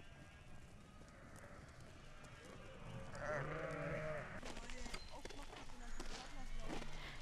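A flock of sheep, including Merino land sheep, spectacled sheep and Rhön sheep, grazing on urban pasture in Nuremberg, with bleats rising over a steady outdoor background and faint hoof movement, while a person talks nearby.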